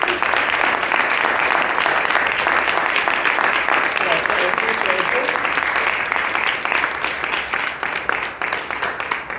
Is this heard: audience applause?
yes